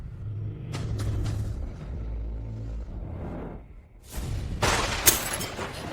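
Tables made of the finest mahogany break apart amid thunder and an earthquake: a deep rumble first, then a loud, close burst of crashing and shattering that fills the final seconds.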